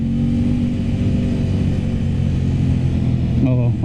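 Aprilia RS 660 sport motorcycle engine running loud and steady with a strong low, droning note, rising slightly in pitch near the end as if revving or pulling away.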